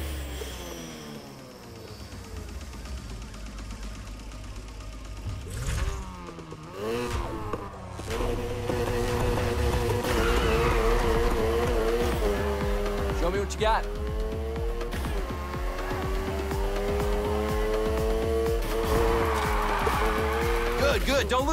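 A race car in Need for Speed Heat revs and accelerates hard along a track, engine roaring loud and close with rising and falling pitch, tires squealing through turns and voices talking over it.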